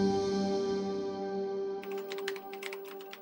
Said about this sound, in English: Roberto sat at his computer typing up a restaurant review